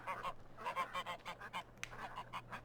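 Geese honk in Farming Simulator 15, a faint run of short nasal calls in quick irregular bursts over a low steady hum.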